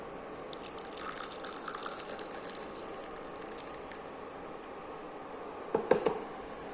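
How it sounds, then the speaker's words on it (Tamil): Hibiscus tea trickles and drips quietly into a container as it is strained, with a few louder splashes near the end. "நான் உங்களுக்கு வடிகட்டி காட்டுறேன் பாருங்கள்."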